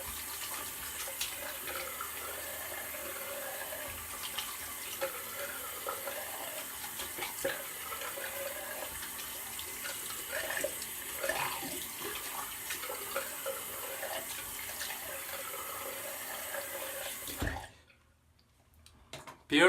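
Tap water running steadily into a sink for a rinse after a straight-razor shave, a continuous splashing stream with small clinks, stopping abruptly near the end.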